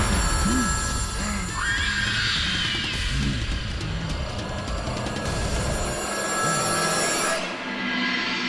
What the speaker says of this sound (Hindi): त्रिश कब से फोन कर रहा हूँ यार